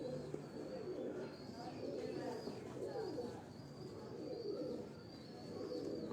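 Lakha pigeons, a gift from the keeper's teacher, coo repeatedly in soft, low, rolling phrases throughout, layered over a steady murmur of flock and room noise.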